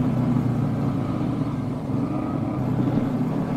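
A Yamaha Jupiter MX-150 motorcycle with its stock exhaust runs steadily nearby, a continuous low engine drone with slight wavering and no voices.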